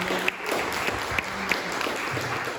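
Applause for guests at a panel on poetics in body dramaturgy, a soft, brief patter of light clapping from a small audience, fairly faint and distant.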